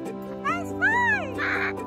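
A pet bird in free flight gives a few loud, rising-and-falling caw-like calls at close range, with a person's voice around them.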